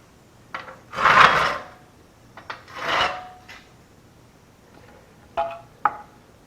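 A heavy steel plate, about half an inch thick, scrapes and rasps as it is slid into position beneath a C7 Corvette Z06 raised on QuickJack lifts: two drawn-out grinding slides, then a few short sharp knocks, close by.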